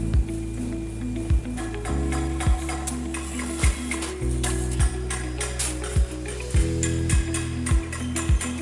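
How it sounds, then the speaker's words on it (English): Supermarket shelving panel roll forming machine with a dual-sided chain and gear drive, running with a steady mechanical hum and regular ratcheting clicks and clanks repeating roughly every second. "Driven by a robust dual-sided chain and gear transmission system, the line ensures maximum torque and perfect profile synchronization at all times."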